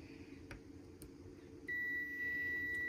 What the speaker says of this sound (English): let's grab the multimeter, put it in continuity mode, put the positive on there